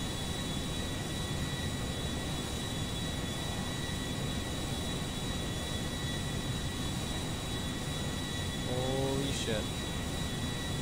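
A very fast modded plane in GTA 5, a steady roaring jet drone holding level throughout, continuous and fairly even, with a brief voice near the end.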